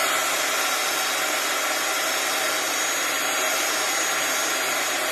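A hair dryer blows steadily on a stamped, non-embossed paper card, a loud, even, unbroken whoosh with no voices.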